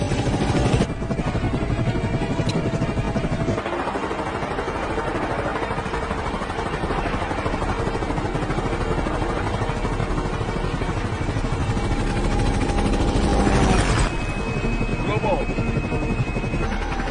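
Aircraft flying just after takeoff in an action movie, a loud steady rotor-like engine drone with clattering that holds throughout and shifts in character partway.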